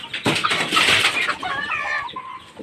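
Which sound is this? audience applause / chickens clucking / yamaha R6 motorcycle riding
chickens clucking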